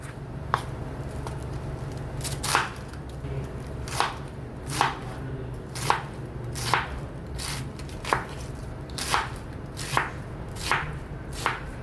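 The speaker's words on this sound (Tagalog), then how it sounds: "Kalahating repolyo ang ating hihiwain dito." Half a cabbage is chopped with a run of about fifteen crisp, evenly spaced cuts, close and clear against a quiet background.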